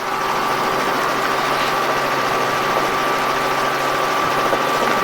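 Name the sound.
Robinson R44 helicopter engine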